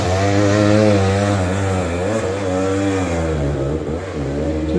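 A Husqvarna 300 two-stroke dirt bike climbs a steep ravine hill, its engine droning loud and close with rising and falling revs as the rider works the throttle.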